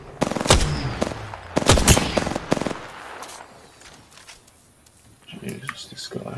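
Sharp bursts of gunfire in a video game crack out in quick clusters, then fade to a quieter lull before scattered shots return, with a voice talking over the action.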